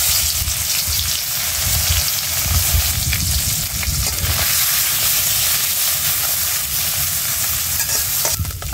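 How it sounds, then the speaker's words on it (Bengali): Fish frying in hot oil in a wok, a steady dense sizzle that stays loud and continuous throughout, with no voices over it. "তেলটা গরম হয়ে গেছে, কড়াইতে মাছটি দিয়ে দেবো।"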